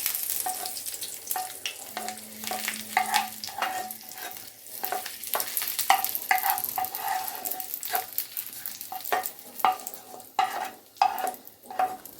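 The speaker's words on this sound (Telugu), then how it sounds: "ఇప్పుడు ఏగినంత కరివేపాకు, వెల్లుల్లిపాయ ఇవన్నీ పచ్చడి మీద వేయాలి" Curry leaves and garlic tempering sizzling as it hits carrot chutney, sharp crackling pops and spitting bursts over a continuous fry hiss, with some stirring scrapes.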